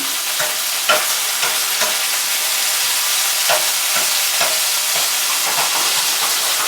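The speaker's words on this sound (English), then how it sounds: "We will add the anchovies and break it up, mash it up a little bit, as best as we can." Anchovies are mashed and broken up as they fry in a pan for spaghetti alla puttanesca in bianco, with a continuous close sizzle punctuated by frequent scraping, tapping utensil strokes and no voices.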